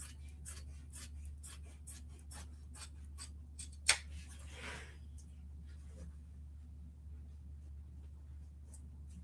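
Manual scissors snip through denim jacket fabric in a quick series of close, crisp cuts over a steady low hum, with one sharp louder snip partway through.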